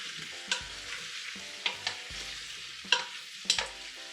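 Red pepper sauce being stirred in a pan as it cooks, a low bubbling sizzle broken by several sharp scraping strokes of a spoon against the pan, close and without speech.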